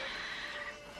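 Roach, a horse in The Witcher 3 video game, lets out a short, quiet whinny with a wavering high-pitched tone that lasts about a second.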